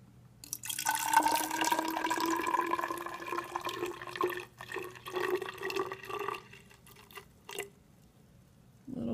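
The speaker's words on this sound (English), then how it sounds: "So we go to our graduated cylinder, and we want to pour to 100 milliliters." Water is poured into a graduated cylinder, filling it toward the 100 milliliter mark; a close, splashing pour runs for several seconds, thins into intermittent trickles and drips, then stops.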